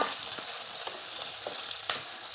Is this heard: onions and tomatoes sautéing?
yes